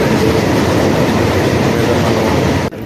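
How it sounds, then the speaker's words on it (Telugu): A passenger train on the Vizag to Guntur route near Vijayawada rumbles steadily along the tracks, loud and close, with a continuous rolling roar that drops off abruptly near the end. "ట్రైన్ ప్రయాణిస్తుంది"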